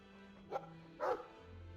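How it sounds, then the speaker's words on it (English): Dog in the video game Dragon Age II giving two short barks about half a second apart, the second fuller and louder, over a faint steady game background hum. "Happy dog is happy."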